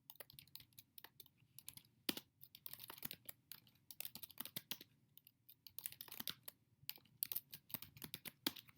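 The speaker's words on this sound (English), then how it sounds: "And then we type in the data." Typing on a computer keyboard: quick, close, irregular bursts of clicky keystrokes with short pauses between runs, fairly quiet and heard alone.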